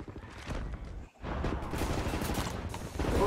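Suppressing gunfire in the video game Wolfenstein The New Order: dense, rapid bursts of shots crackle almost continuously, with a brief gap in the middle before the barrage resumes and grows louder.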